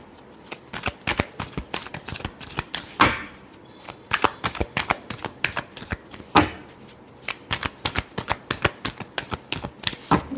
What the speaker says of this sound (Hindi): Last shuffle.